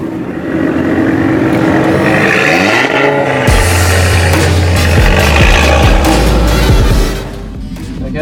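A tuned Audi RS3 engine is revved, a loud close rasping burst that climbs, holds through the middle and drops off near the end.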